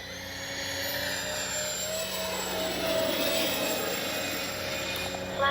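A Freewing 80mm A-10 V2 radio-controlled model jet makes low passes in low light, its ducted-fan engines giving off a steady, loud whining roar with a thin high tone that swells slightly as the plane passes.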